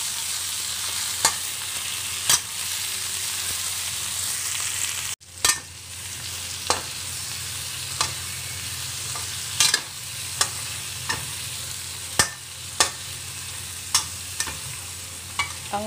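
Onion and garlic sautéing in a pan for creamy pineapple chicken, a steady close sizzle punctuated by regular sharp scrapes and clicks of a utensil stirring, with one brief dropout partway through.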